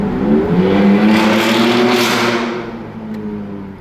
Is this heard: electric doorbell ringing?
no